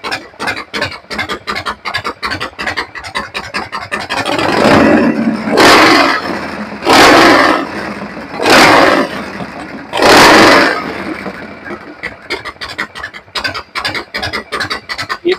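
A 1970s-style Harley-Davidson Shovelhead FXE 1200 with an S&S Super E carburetor runs close by, idling roughly, then blipped in four loud revs before settling back, with scraping noises around it.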